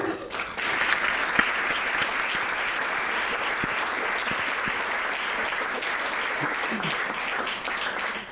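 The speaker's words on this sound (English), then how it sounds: "A round of applause for yourself, Your Excellencies." Sustained applause fills a general assembly session of a Model United Nations conference in Abuja, a dense steady clatter of many hands clapping from start to finish with faint voices mixed in.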